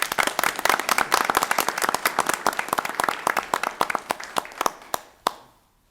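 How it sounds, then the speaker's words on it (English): Applause from a school board meeting audience honoring a teacher, starting as a dense burst of claps that thins into a few scattered individual claps before stopping. "So a big round of applause for Ms."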